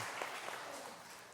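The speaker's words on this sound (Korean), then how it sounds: "우리 박수 한번 할까요?" A church congregation claps together in a dense, steady patter of many hands. The sound is faint and brief, with no voices over it.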